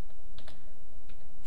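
Keystrokes on a computer keyboard while text is entered in Photoshop, a few close, soft clicks scattered over a faint steady background hum.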